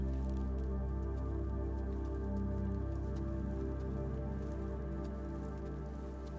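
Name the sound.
light rain drops tapping forest leaves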